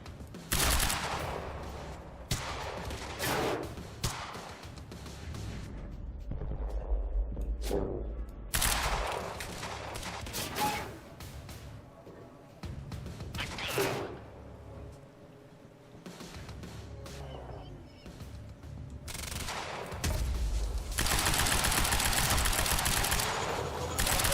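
Gunfire in the video game Quantum Break, with repeated bursts of automatic fire and heavy shots alternating with quieter gaps over a rumbling background, building to sustained loud firing near the end.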